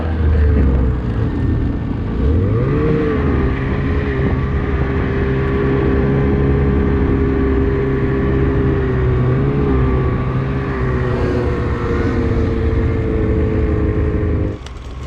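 A snowmobile engine descending a steep mountain slope in Yakutia, droning loud and close for the whole stretch with a rising and wavering pitch, then cutting off abruptly near the end.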